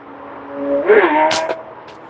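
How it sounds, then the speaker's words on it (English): A motorcycle passes on a road outside, its engine note rising and falling as it goes by at a distance, with a fairly loud whoosh of passing traffic and some background noise. "So you hear that motorcycle out there?"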